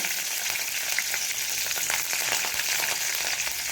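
Cumin seeds and curry leaves fry in hot oil for a tempering, giving a continuous, fairly close crackling sizzle with no talk over it.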